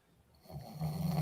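A man snoring in his sleep, a single rising breath that grows from faint to a rough, close rumble.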